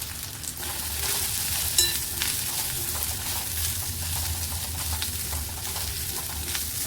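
Homemade red masala, asafoetida, turmeric and salt sizzle steadily in a pan for Kokan-style pithla, a continuous close hiss with a brief clink near the start and no talking.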